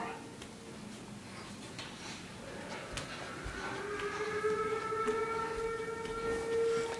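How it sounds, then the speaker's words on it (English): Tornado warning sirens wail outdoors, their rising tones swelling and sustaining over a rumbling background, moderately distant and growing slightly louder. "They want the tornado sirens again."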